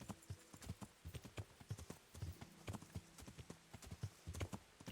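A horse's hooves clip-clop steadily at a walking pace in the video game Kingdom Come: Deliverance, close and even, with a faint background tone underneath.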